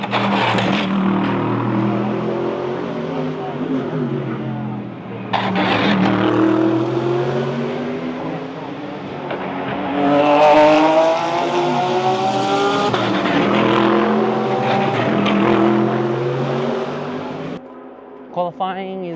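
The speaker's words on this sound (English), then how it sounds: "Got to see the two BMW WRT cars out on the track." Two BMW WRT race cars in qualifying at the Bathurst 12 Hour circuit roar past with rising and falling engine notes, revving hard and fading as they sweep by, loud and near, with occasional tire noise.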